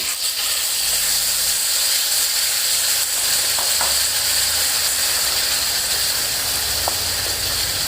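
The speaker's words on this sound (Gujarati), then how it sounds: "હવે આની અંદર આપણા સમારેલા બાફેલા ટામેટા નાખી દઈશું" Boiled chopped tomatoes hit a hot tempering for date and tomato chutney, sending up a loud, steady hiss and sizzle with occasional stirring scrapes, close and continuous.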